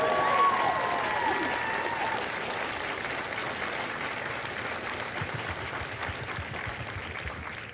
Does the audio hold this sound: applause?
yes